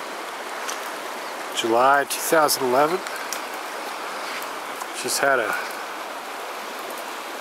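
The Smith River rushes steadily after a thunderstorm, an even wash of flowing water running throughout as someone speaks briefly over it in two short stretches.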